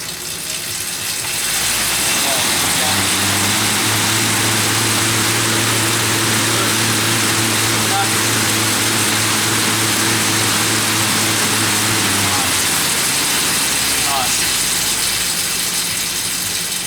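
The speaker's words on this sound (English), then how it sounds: "I've chosen the air bike as well. Again, it's an adaptable machine, adaptable piece of machinery." An air bike exercise machine, its fan whirring in a loud steady drone as it spins up, holds a constant pitch for about ten seconds, then winds down, with a faint mechanical ratcheting beneath.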